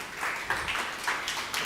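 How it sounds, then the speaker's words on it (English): Brief round of applause from an audience at a talk event, a soft scattered patter of clapping that swells in a few short bursts and stays fairly distant and quiet. "Give her a round of applause as well."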